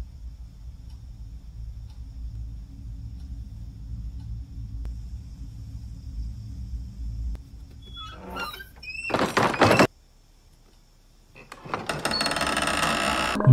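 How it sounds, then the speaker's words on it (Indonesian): A door in an Indonesian horror film suddenly swings wide open, a creaking squeal and heavy thunk rising out of a low ominous rumble, followed by a sharp burst and a harsh noisy swell. "pintu yang sudah ia tutup tiba-tiba terbuka lebar"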